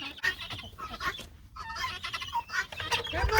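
Backyard chickens cluck and chatter in quick, uneven bursts, several birds close by and overlapping, with a short pause before the busy clucking resumes and builds.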